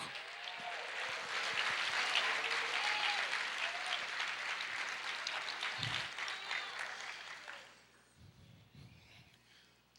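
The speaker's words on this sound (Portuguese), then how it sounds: "Aplauda o Senhor" A church congregation applauds the Lord during a sermon, sustained crowd clapping with some voices that fades out near the end, leaving a quieter room.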